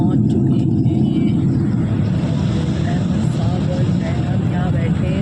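Steady, loud broadband roar of airplane cabin noise continues without letup as the flight descends toward landing at night.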